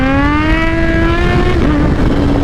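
A 2021 Kawasaki Z H2 motorcycle pulls hard in first gear, its engine note climbing loud and close in pitch before a sudden break as the revs drop, with no talking.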